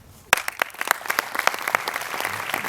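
A small gathering at a college soccer signing night breaks into applause, claps starting sharply and building into a dense, close patter of many hands.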